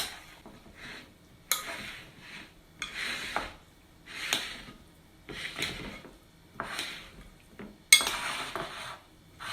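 Ingredients for Italian bread rolls are stirred in a bowl, with olives and sunflower-oil tuna nearby. A utensil scrapes and clinks against the bowl in repeated bursts, each lasting about a second, close and moderately quiet.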